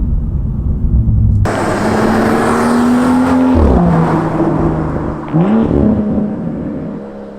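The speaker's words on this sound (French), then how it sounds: "on a le droit au petit rétrogradage un petit peu cool en mode sport" BMW M2 M Performance from 2018 in sport mode, its engine droning steadily and loud, then twice blipping and dropping pitch sharply as it downshifts, heard close with no talk.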